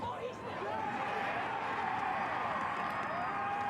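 Football stadium crowd at Memorial Stadium during a state championship game reacts to a replay on the big screen, a steady, distant roar that swells slightly, with a commentator talking over it.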